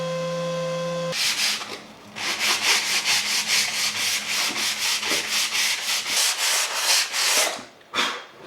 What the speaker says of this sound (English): This then gets sanded down with 240 grit and the orbital sander for the faces